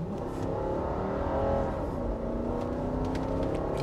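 A 2004 Cygnus car engine revs hard and accelerates, a loud, steady, close roar with a rising and falling pitch that holds for about four seconds with no talk over it.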